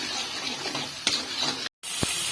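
Spices with Kashmiri red chili powder fry in a pan for a tilapia fish curry with potato, a close steady sizzle with a couple of stirring knocks and a brief dropout.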